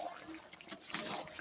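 Hot water poured into a pan of cooking red curry, a steady splashing pour that runs through the whole moment at moderate loudness.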